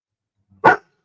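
A dog gives a single loud, close bark, short and sharp, after a brief low lead-in, then silence.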